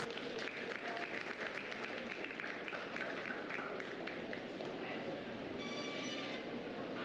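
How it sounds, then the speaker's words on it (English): An audience at a 4-H sheep show claps together, a dense, even wash of applause that holds steady throughout, heard from some distance and fairly faint. "So big hand of applause for Kevin Burks"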